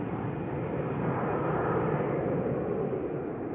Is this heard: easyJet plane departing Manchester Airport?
yes